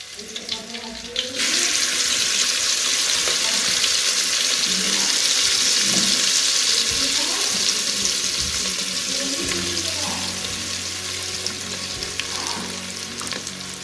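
Homemade village goda masala paste with garlic fries loudly in hot oil in a pot over a wood-fired clay stove, a dense continuous sizzle with faint stirring scrapes and no talking.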